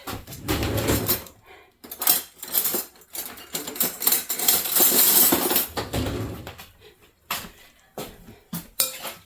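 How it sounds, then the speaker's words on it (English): A spoon stirs homemade macaroni salad in a bowl, giving a close run of clinking scrapes against the bowl with brief pauses between strokes. "I'm going to get me a spoon to stir it with"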